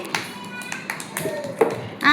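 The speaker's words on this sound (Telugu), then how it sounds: "క్లాప్స్ కొట్టండి." Preschool children clap their hands in a brief burst of scattered, uneven claps in a classroom. A voice talks just before and at the end.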